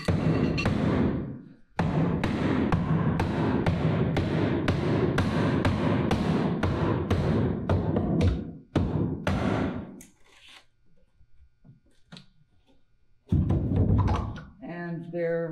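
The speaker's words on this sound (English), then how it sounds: "I'm destroying this one, so I'm just gonna pound this apart." Rapid, repeated hammer blows pound apart a glued and stapled wooden platform, loud and close. The blows are followed by a pause and then a burst of wood creaking and splitting.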